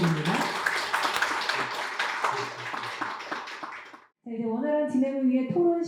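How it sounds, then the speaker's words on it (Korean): An audience at a Korean literature forum applauds for about four seconds with dense, steady clapping. It stops abruptly, and a voice begins speaking over the room. "우리 김호은 이사장님께 다시 한번 감사의 박수 부탁드립니다"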